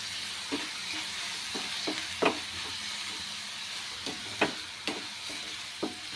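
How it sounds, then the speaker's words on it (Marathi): Onion and curry leaves sautéing in a pan give a steady, close sizzle with a faint hiss underneath, broken by several sharp pops and crackles spaced irregularly through it. No one speaks. "तर मस्तपैकी थोडंसं परतून घेऊया"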